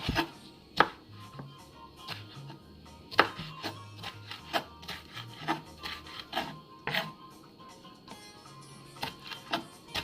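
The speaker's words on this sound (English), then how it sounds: "I've washed my tomatoes, just want to chop it up." Knife chopping washed tomatoes on a board for a Nigerian salad, a series of close, irregular sharp chops over faint background hum, with no speech.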